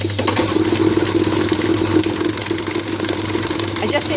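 An electric kitchen mixer runs with a steady, low motor whir that holds evenly throughout, with a faint rattling texture on top.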